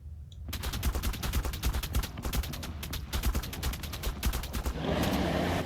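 A Velonasaur firing in turret mode in the video game ARK, a rapid, sustained volley of sharp shots in fast rhythmic succession, loud and continuous for several seconds.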